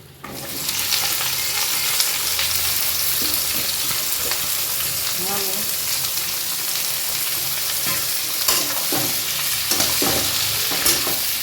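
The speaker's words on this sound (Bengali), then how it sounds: "দেখো এবার পেঁয়াজটাকে ছেড়ে দেবো তেলে" Onions sizzle and crackle in hot oil, a steady loud hiss with occasional stirring scrapes and pops throughout.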